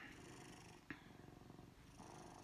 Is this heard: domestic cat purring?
yes